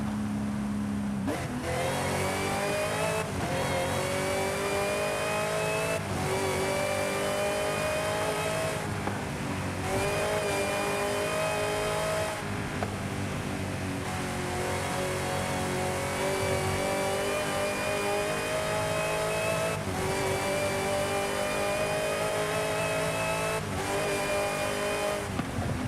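From the cabin, a supercharged LS3 V8 in Forza Horizon 5 roars loudly and continuously, pulling up through the revs and shifting again and again.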